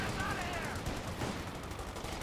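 Distant, low-level gunfire from Company of Heroes 2 battle, a clatter of submachine-gun and rifle shots blended with game ambience and a faint whistle, quiet and muffled throughout.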